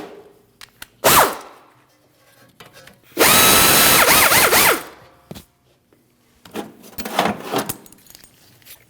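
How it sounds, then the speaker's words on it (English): A power tool drives caliper bolts on the rear brakes of a 2022-2025 Lexus NX350: a short burst, a longer sustained whir of a couple of seconds, then a few brief pulsing bursts, loud and close. "Install your caliper bolts."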